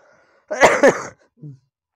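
A single harsh cough burst followed by a smaller one, close up, with a quiet pause before and after.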